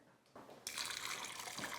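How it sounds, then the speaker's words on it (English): Water poured from a sink tap onto a bowl of freshly removed pomegranate seeds in a home kitchen, a steady close splashing rush that starts abruptly and runs on without any talk. "So I'm just gonna add some water"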